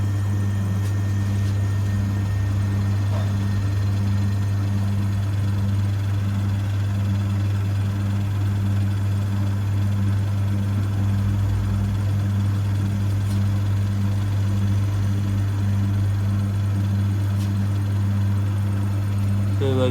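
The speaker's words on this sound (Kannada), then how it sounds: "ಸೊ ನೀಟಾಗಿ ಕಂಪ್ರೆಸರ್ ಸ್ಟಾರ್ಟಾಗಿ ಓಡ್ತಾ ಇದೆ" Bottle cooler fridge compressor running steadily after starting, a constant low mechanical hum with a strong tonal drone and faint rattly vibration, unbroken and close throughout.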